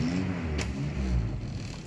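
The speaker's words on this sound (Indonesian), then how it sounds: "Nah, ini kita geber-geber." A 1989 Toyota Kijang Super KF, five-door, revs its engine in a brief low, throaty rumble, close and steady, with the exhaust running without smoke.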